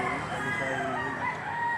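A rooster crows at a busy chicken market in Lipa City, Batangas, its call loud over a steady din of crowd chatter and other fowl.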